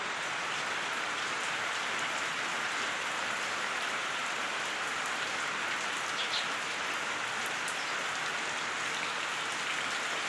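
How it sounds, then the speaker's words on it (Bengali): Heavy rain pouring down steadily, a dense, even hiss of drops that continues without a break. "বাইরে হচ্ছে প্রচুর পরিমাণে বৃষ্টি"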